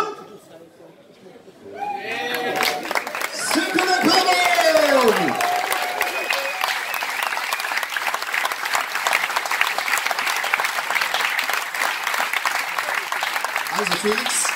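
A crowd at the 2019 Würzburg best start-up award ceremony breaks into sustained, loud applause after a brief spoken introduction, the dense clapping continuing evenly to the end.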